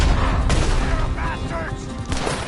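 Gunfire in the open-world Western game Red Dead Redemption 2, a couple of sharp loud shots cutting through busy game sound as characters talk over the action.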